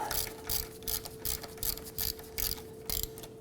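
A ratchet wrench runs a bolt into the rear shock absorber mount of a 2003-2014 Volvo XC90, giving seven or eight quick bursts of rapid clicking in an even rhythm, close and fairly quiet, with no talk.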